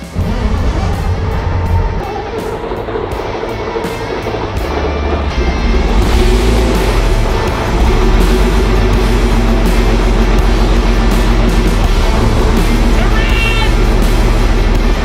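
An 800 horsepower diesel tank engine cranks and catches, then settles into a loud, heavy, continuous rumble that builds after a few seconds and keeps running close by.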